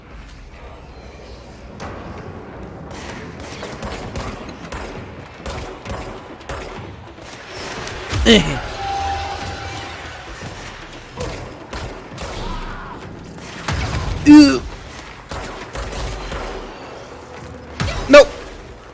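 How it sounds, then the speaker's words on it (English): Gunfire and explosions in the video game Control, a dense run of sharp shots and booms with louder blasts near the middle and end, under a player's occasional voice. "Why is everything exploding around me?"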